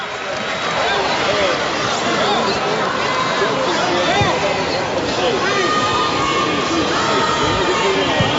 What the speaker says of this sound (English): that crowd's getting in as New Haven's back on top